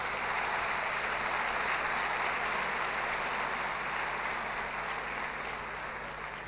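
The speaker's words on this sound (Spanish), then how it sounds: "les pido un fuerte aplauso" A lecture audience in Bahía Blanca applauds the sponsors with a steady, even roar of clapping that stays strong throughout and eases off slightly at the end.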